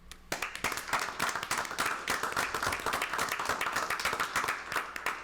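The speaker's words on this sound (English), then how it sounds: "And they too deserve a round of applause." A crowd at a township committee meeting applauds the Long Hill First Aid Squad, a dense, steady round of many hands clapping that carries on for about five seconds without any speech.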